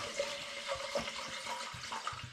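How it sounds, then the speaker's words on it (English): Spring water, about two litres, pours into a saucepan holding chopped ginger, giving a continuous splashing gurgle up close with uneven bursts. "alongside that I'm going to add some water, about 2 litres of spring water"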